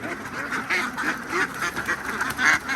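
Laying ducks quack repeatedly in a lively, overlapping chorus at moderate volume, with a faint hiss of background noise.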